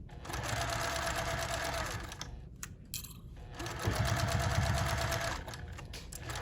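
An electric sewing machine back stitches across the corner of a toiletry bag, running in two steady motor bursts separated by a short pause, close and moderately loud.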